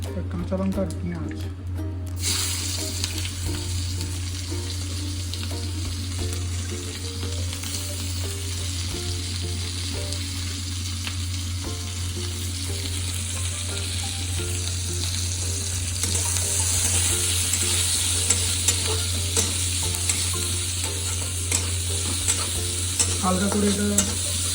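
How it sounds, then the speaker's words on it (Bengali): Green chilli and onion fry in a pan in a small kitchen, giving a continuous close sizzle with scraping stir strokes for about twenty-five seconds while someone talks over it. "হালকা করে এটা ফ্রাই করে নেব।"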